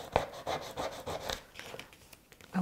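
A burnishing tool rubs across paper to press dry adhesive into place. Several quick rhythmic scraping strokes are heard close up, then they thin out into lighter scratches.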